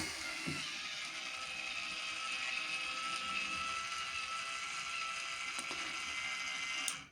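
A motorized water valve opens in manual mode: a steady mechanical whir runs throughout, with a couple of brief clicks, ending with a sharp cutoff as the motor stops.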